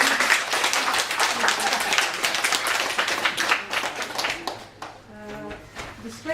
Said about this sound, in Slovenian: Jaz mislim, da si kar takoj zasluži en aplavz.